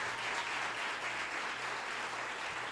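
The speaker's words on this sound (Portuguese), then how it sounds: "Você pode aplaudir a Deus por causa disso?" A church congregation applauds steadily throughout, a dense, even wash of clapping at moderate volume with a low hum underneath and no voices.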